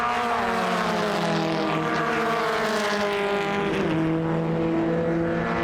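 Race cars on a track at a sports car club plate race, engines roaring loudly together with pitch sweeps and gear changes as the pack passes close, no talking.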